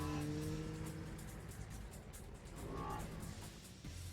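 Engine rumble of a demo truck rolling out of a factory in the real-time strategy game Mental Omega, a steady low drone with a short brighter rise near the end, over continuous game ambience.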